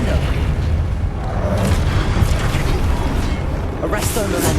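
Flipendo spell cast in Hogwarts Legacy, a dense burst of magical blast and whoosh amid ongoing combat effects, loud and busy, with a sharp bright crackle near the end.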